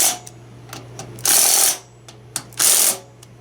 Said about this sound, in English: these are supposed to be torqued down. That's what I'm doing. I'm torquing them down.